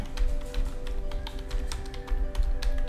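Light tapping on a computer keyboard during a tutorial, a quiet irregular run of key clicks over a low steady hum, without speech.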